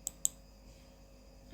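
A computer mouse gives two quick, sharp clicks close together near the start, then quiet room tone.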